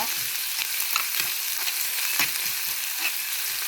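Greens sautéing in coconut oil give a steady, close sizzle, with soft scraping stir strokes recurring through it and no talking.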